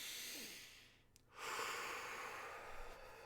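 A slow, deep breathing exercise: a soft drawn-in breath, a brief pause, then a long, audible exhale rushing out, close and quiet with no talking.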